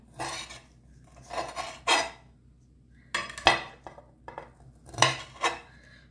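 A knife chops raw beef cubes into smaller pieces on a board for home-style kebab, giving several separate bursts of chopping and scraping, loud and close, with no voices.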